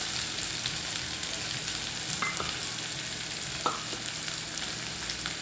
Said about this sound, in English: So I'm going to add the onion now.